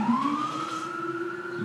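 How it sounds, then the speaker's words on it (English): An emergency vehicle siren wails on a Manhattan street, a single rising and falling tone that is loud and fairly close, with no talking over it. "I know y'all listen to these sirens every episode"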